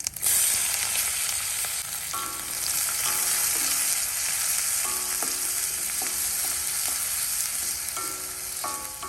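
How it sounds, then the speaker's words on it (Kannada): Onion frying in oil with whole garam masala spices (cinnamon, cardamom, cloves, bay leaf, cumin) for egg kheema masala: a steady loud sizzle with intermittent stirring clinks of a spoon against the pan, no talk. "ನೋಡಿ, ಈರುಳ್ಳಿ ಒಳ್ಳೆ ರೀತಿಯಲ್ಲಿ ಫ್ರೈ ಆಗಿದೆ. ಈ ತರ ಫ್ರೈ ಆಗಬೇಕು."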